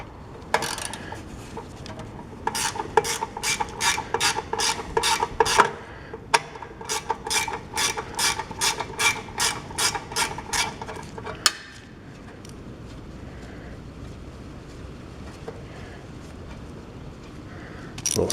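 Ratchet wrench turns bolts on a snowblower shroud, a close rapid series of clicking strokes in bursts, then stops and leaves quiet workshop background.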